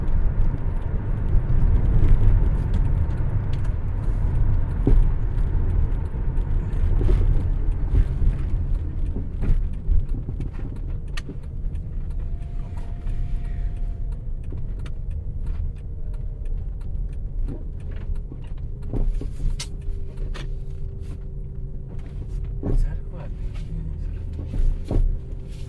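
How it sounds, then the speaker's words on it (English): A car engine idles steadily throughout, a low continuous rumble close by with faint mechanical ticks layered over it and no talk. "Leave the car running,"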